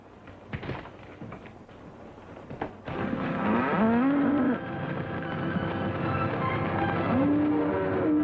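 Cattle stand on a railway track in front of a halted old-time train, giving two drawn-out moos over a steady rumbling backdrop that swells after a few scattered knocks and clatters.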